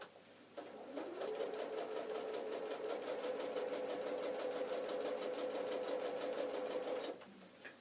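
A sewing machine stitches a quarter-inch seam along the long edge of patchwork fabric, whirring up to speed and holding a steady, close rhythmic hum for about six seconds before stopping.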